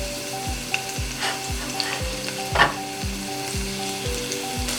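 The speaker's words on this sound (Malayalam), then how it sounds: "ഇതിലേക്ക് നമുക്ക് കുറച്ച് വെളുത്തുള്ളി ചതച്ചത് ഒന്ന് മൂപ്പിച്ചെടുക്കണം" Crushed garlic frying in hot coconut oil, with a steady close sizzle and scattered crackles, plus a few louder stirring bursts, no voices.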